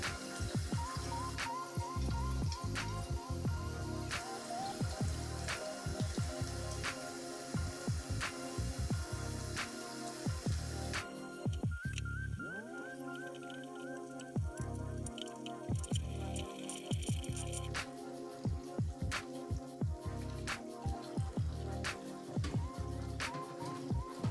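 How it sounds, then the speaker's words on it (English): Melon seeds pulled one by one from their stringy net underwater, heard as soft, close squishes, drips and small watery clicks in an irregular rhythm, quiet and with no speech. "I gently open them underwater and separate them one by one from that net-like structure that holds the seeds."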